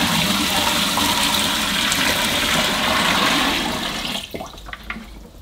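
Water gushes steadily from a 5-litre bucket into a collapsible washing machine tub, a loud continuous pour that tapers off into trickles and drips near the end.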